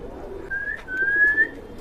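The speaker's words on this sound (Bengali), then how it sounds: "এই যে চারটা কবুতর একসাথে আসছে" Several pigeons arriving together at a loft give a brief, soft whistling coo that rises slightly and trails off, close by and alone over a low background hum.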